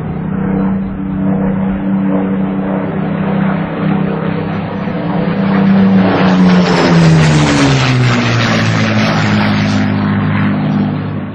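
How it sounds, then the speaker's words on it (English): A WWII Spitfire fighter over Malta roars overhead: a loud, continuous piston-engine drone that swells and shifts pitch as it passes near, alone with no voices. "Finally, in March 1942, came the reassuring sound of an aircraft that was more than a match for the German and Italian fighters."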